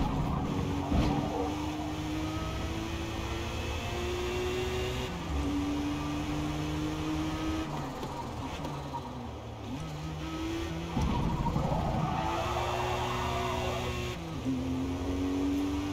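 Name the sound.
Ford GT accelerating and lifting off, Forza Motorsport video game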